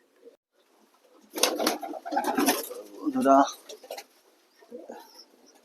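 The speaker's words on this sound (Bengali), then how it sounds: "এই দুটো পায়রাই আজকে ডেলিভারি করব" Pigeons coo and flutter close by in short bursts, soft throaty calls mixed with rustling and brief scuffling sounds.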